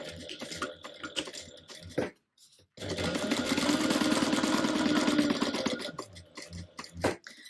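A sewing machine runs a steady stitching burst down a 3/8 inch seam, stopping briefly before resuming at a constant whirring pace, with a voice talking around it.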